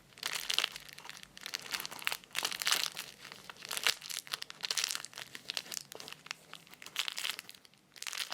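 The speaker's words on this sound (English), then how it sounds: "Since it has the paper inside, it sounds much more when we move the marble." Dense papery crinkling and rustling surges and fades in waves as a marble rolls around inside a paper-filled homemade squishy fidget toy, close up and continuous, without voices.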